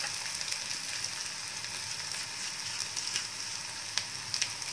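Onion frying with ginger garlic paste in a pan for yellow chicken curry, a soft, even sizzle with light stirring scrapes and a couple of small taps near the end, quiet and without speech.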